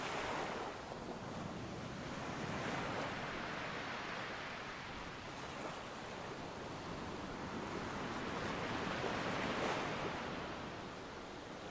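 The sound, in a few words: ocean waves and wind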